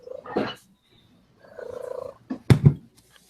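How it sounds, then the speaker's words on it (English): A house cat purring close to the microphone in short rumbling bursts, with brief breathy chirps and a couple of sharper knocks between them. "Musty's cat has come to say hello."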